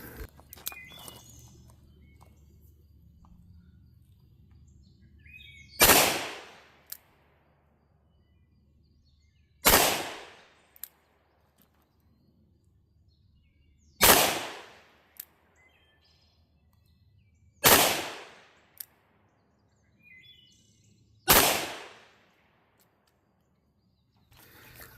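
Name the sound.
38 Special revolver gunshots, Armscor ammunition, 6-inch barrel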